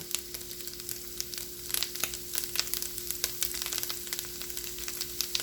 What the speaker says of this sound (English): And then I stir that in to make a roux